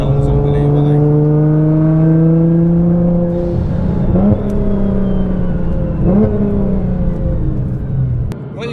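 A JM1300R Nissan GT-R engine warming up at a loud steady idle that rises into a few revs, dropping back between blips, heard up close with no talking.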